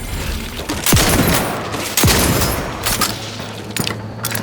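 A big gun in the video game The Outer Worlds 2 fires loud, heavy booming shots, two big blasts about a second apart followed by smaller rattling bursts of gunfire.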